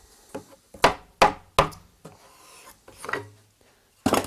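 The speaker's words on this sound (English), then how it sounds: "I'm going to knock the wedges out now" Several sharp wooden knocks as a hammer knocks out wooden wedges, spaced irregularly, struck close by, then a final burst of impacts; no talking.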